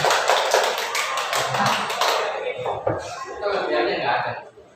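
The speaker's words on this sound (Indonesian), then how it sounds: "Tepuk tangan untuk Butin." Applause for Butin from a group, most likely in a school classroom, a short burst of brisk clapping close by that stops after about two seconds, followed by quieter murmuring voices and light movement.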